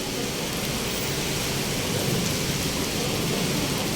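Steady rain falls in Makati, a dense, even hiss of broadband noise that holds at constant loudness throughout, with no voices.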